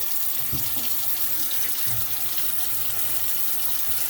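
Steady broadband rush of water running from a newly installed two-handle kitchen faucet, continuous and close, with a few faint low knocks underneath.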